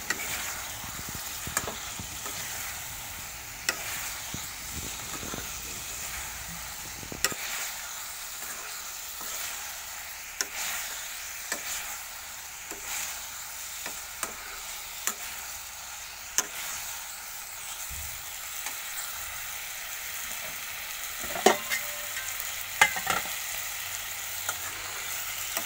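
Jackfruit pieces stirred into spices in a pan, giving a steady quiet frying sizzle throughout with scattered sharp spoon clicks and scrapes, a few louder knocks near the end.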